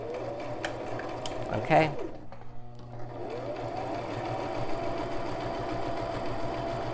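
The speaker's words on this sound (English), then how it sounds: "I'm going to stitch a couple stitches, back stitch, and then continue the sew." A Brother LX3817 sewing machine runs steadily through a zig-zag stitch, its close mechanical whir pausing briefly for a back stitch before resuming, with a short spoken word over it.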